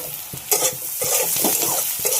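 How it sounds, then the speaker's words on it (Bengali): Onion frying in mustard oil is stirred in a pan: a close, steady sizzle broken by several quick spatula scrapes. "পেঁয়াজটা ভেজে নিচ্ছি সর্ষের তেলে।"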